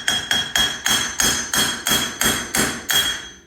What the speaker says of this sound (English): I'm just gonna tap it a couple times.